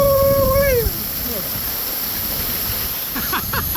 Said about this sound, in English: Jackson found our first Florida waterfall